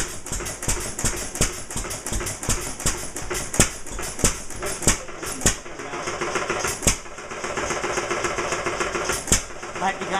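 An engine running inside a garage, a steady close mechanical drone with repeated sharp knocks and clatters over it, and a person talking briefly nearby.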